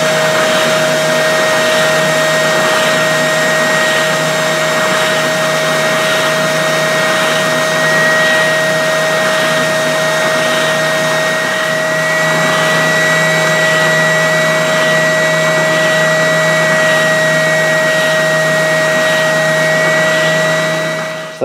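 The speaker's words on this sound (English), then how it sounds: "So I'm just going to throw it up on the spindle sander now and try and smooth out all these cut edges" A spindle sander grinds steadily against the cut edges of a kit guitar headstock, a loud constant motor drone with a sustained tone that holds unbroken throughout.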